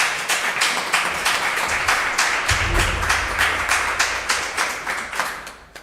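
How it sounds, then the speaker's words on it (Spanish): An audience at a lecture on Trinidad Street applauds, producing loud, rhythmic clapping with no talk. "Muchas gracias y un aplauso para..."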